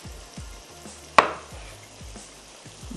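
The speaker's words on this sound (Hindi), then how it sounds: "4 अदद आपने ले लेने हैं टमाटर, और उसको हम कर लेंगे रफली चॉप" Tomatoes being roughly chopped with a knife on a board, producing repeated low, soft thuds at a steady rhythm and one sharp, louder knock near the middle, with no talking.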